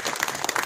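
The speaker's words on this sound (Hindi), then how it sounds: "ताली बजाते हैं।" Brief burst of crowd applause at a sanitation workers' union meeting in Delhi, a busy, moderately loud patter of many hands with no voices over it.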